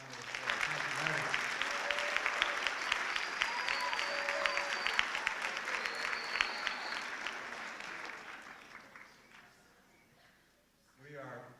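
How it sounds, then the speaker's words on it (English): An audience at a middle school MLK assembly applauds in a sustained round of clapping and cheering that slowly fades away, with brief voices heard near the end. "let's give a big round of applause"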